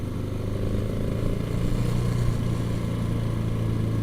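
A motorcycle rides along Black Canyon Road with a steady, continuous engine drone and low rumble held close throughout, the pitch rising slightly as it gains speed, with no talking.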